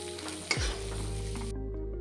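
Leftover chapati pieces are stirred with turmeric in a hot pan, with a loud continuous sizzle and a single clatter of the spoon as the mixing starts. No one is talking.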